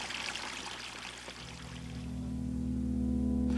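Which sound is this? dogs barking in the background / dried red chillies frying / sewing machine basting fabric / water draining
water draining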